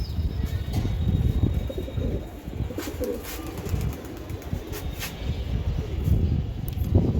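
Racing pigeons in a loft coo in low repeated phrases amid rustling, scratchy handling noises and a few sharp clicks, close and fairly steady throughout.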